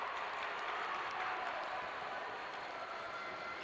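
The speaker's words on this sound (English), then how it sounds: "Huge cheering in the other court." Crowd at the 2022 Dodgeball World Championships foam event cheering from a nearby court, a dense, steady roar of voices and applause filling the indoor hall.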